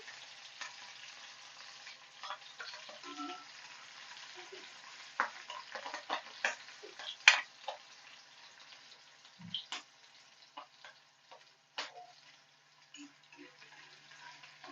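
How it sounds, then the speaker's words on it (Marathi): Green chilies keep frying in oil in a kadhai, making a soft, continuous sizzle with scattered small pops and clicks over about fifteen seconds, fairly quiet and with no voices. "मिरच्या मस्त फ्राय करून घ्यायच्या"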